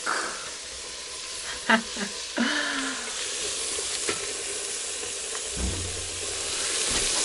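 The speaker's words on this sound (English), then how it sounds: "I want to wait for some time for the tomatoes to cook" Tomatoes simmer in a pot over an outdoor village cooking fire in Kenya, giving a soft steady sizzle with a few clinks of stirring, moderately close and without speech.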